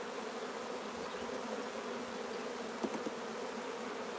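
A dense swarm of honeybees drones steadily around a hive frame heavy with nectar during queen rearing, a continuous close buzz with a few faint knocks near the end.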